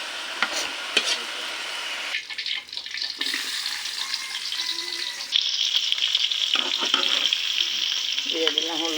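Vegetables with meat fry in a pan as a noodle topping, a continuous close sizzle with stirring scrapes and clatter, brightening midway as the frying intensifies.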